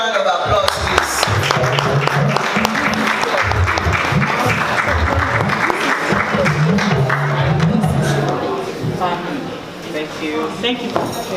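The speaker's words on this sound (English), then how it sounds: "Please, can we give them a good round of applause" Audience applauding award recipients at a book launch: dense, sustained clapping from a sizeable crowd, steady for several seconds with voices murmuring underneath.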